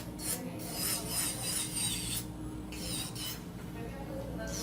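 An electric nail drill with a 5-in-1 all-around bit files and shapes coffin-shaped acrylic nails, giving a steady close rasping whine that pulses in short strokes as it passes over each nail.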